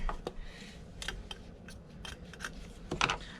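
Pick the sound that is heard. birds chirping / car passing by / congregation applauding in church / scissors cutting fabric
scissors cutting fabric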